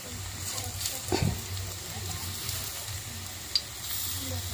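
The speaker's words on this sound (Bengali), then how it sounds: "5 ফোড়ন তেজপাতা দিয়ে সম্বার দিয়ে জিরে কাঁচা লঙ্কা দিয়ে তরকারি করব" Whole spices sizzle in hot oil as five-spice, bay leaf, cumin and green chilli are tempered for a vegetable curry, a quiet steady frying hiss with a brief louder crackle.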